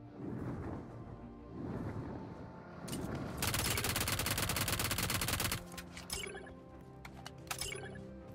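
P90 submachine gun fire in a mobile battle royale shooter game rattles in rapid automatic bursts, with one long sustained burst in the middle amid other game effects and scattered shots, fairly loud and without talking.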